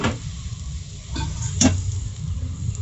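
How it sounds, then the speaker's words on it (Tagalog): Pork dropped into a pan of sautéed aromatics for pork nilaga, a close, steady sizzle with a couple of sharp clatters of the pan and utensil, no talking. "pag nagisa na natin yan, ilagay na natin yung ating pork"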